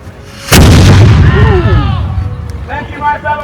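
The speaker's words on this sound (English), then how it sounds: "brace yourselves for another roar of the cannon" At a Colonial Williamsburg demonstration, a historic cannon fires once with a sudden, very loud boom that rolls and echoes away over several seconds.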